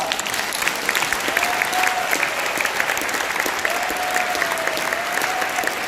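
Warm audience applause at a church gathering after a sermon, a dense steady wash of many hands clapping at full strength for the whole stretch, with faint vocal tones drifting through it.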